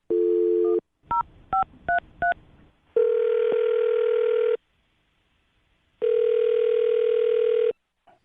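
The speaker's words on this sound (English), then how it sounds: "I'm going to dial her phone number right now." A phone line gives a steady tone, then five quick dialing beeps, followed by two long ringback tones separated by silence.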